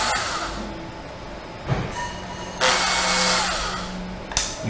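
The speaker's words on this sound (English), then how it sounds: "we're just going to put a M3 drill through these holes" A power drill whirs in short bursts while drilling 3 mm holes, with a louder sustained run in the middle and a brief burst at the end, close and fairly loud.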